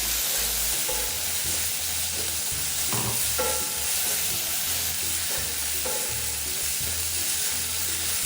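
Black pepper sauce sizzles and bubbles in a pan after water is poured in, a loud steady hiss with occasional stirring scrapes and clanks, close by and without talk.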